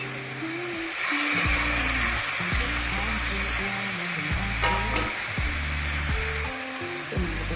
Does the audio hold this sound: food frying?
yes